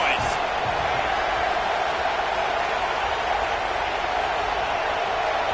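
A football playoff game's stadium crowd roars in a loud, sustained, unbroken wall of noise.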